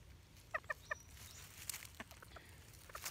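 Sablepoot bantam chickens cluck softly in a breeding pen, a quick run of three close clucks near the start followed by scattered fainter calls over a quiet background.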